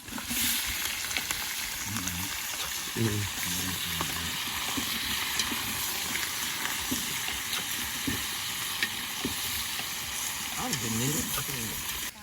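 Chopped onions sizzle in a hot pan, a steady loud crackling hiss that runs the whole time beneath a woman's chatter.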